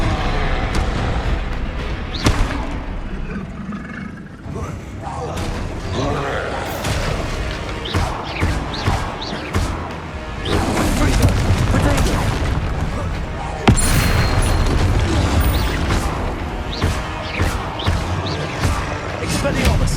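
Repeated Confringo blasting spell explosions in the Hogwarts Legacy video game, loud booming bursts mixed with other combat spell effects, coming in irregular clusters throughout a busy fight, with a voice speaking over parts of it.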